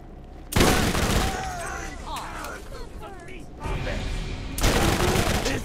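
Bone Shredder Tediore SMG fire in Borderlands 1, loud rapid bursts in two main volleys with a quieter stretch between, a voice speaking underneath.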